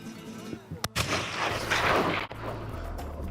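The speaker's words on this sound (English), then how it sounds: "I had to make the shot" A hunting rifle fired at a stag during a trophy hunt, one sharp, loud outdoor report followed by a long rolling echo that fades over about a second, with quieter rustling before and after.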